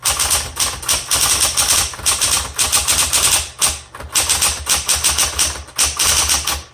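A 1960s Smith Corona Coronet electric typewriter being typed on, with rapid, loud, close key strikes in steady bursts and brief pauses, played alone.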